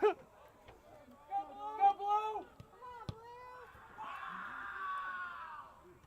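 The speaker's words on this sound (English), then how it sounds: "An enthusiastic crowd." Spectators at a boys' soccer game whoop and shout with excitement, voices rising in pitch over a low crowd murmur, followed by a longer stretch of broad shouting.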